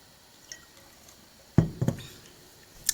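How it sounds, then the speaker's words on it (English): A few quick wet sips of water with small slurping, liquid clicks, close and fairly soft in a quiet room. "let me take a sip of my water"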